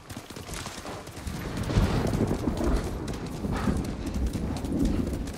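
Horse hooves clip-clop steadily in the Ghost of Tsushima video game, a continuous rhythmic trot close by with a low rumble underneath and no talking.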